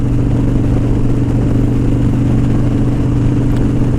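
A Harley-Davidson Dyna motorcycle cruises along on a morning ride in Arizona, its engine a loud, steady low rumble with wind noise, continuous throughout, no voices.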